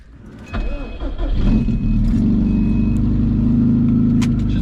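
A twin-turbo Subaru STI pulls hard from inside the cabin, the engine note rising to a loud sustained roar with some intake and turbo whoosh and a few faint clicks and rattles.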